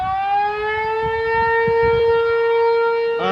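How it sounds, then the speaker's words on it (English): A firehouse siren sounds during a test, a loud, steady wailing tone with rich harmonics that holds throughout and shifts slightly at the end. "It sounds like a siren going off."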